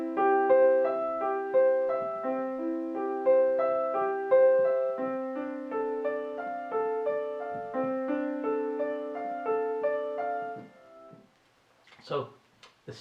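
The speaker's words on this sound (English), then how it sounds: "Now let's try measure 1 to measure 2 to measure 3, and it will sound like this." Solo piano playing the first three measures of a beginner's Bach piece, close and clear with steady running notes over a moving bass for about eleven seconds, then a brief voice after the playing stops.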